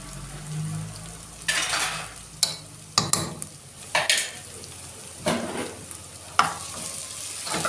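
Garlic stirred and frying in a pan while making stuffed vegetables (mahshi), with sharp scraping strokes of a utensil against the pan over a steady sizzle, repeated several times at an uneven rhythm, close up and with no talk.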